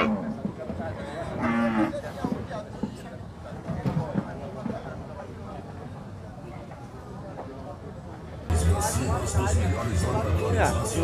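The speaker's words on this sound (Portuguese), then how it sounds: "Tem um boi grande por aqui." Cattle lowing at an animal fair in Monteiro, Paraíba, with deep moos rising over a busy outdoor crowd and nearby talk, then a louder, closer stretch of bellowing toward the end.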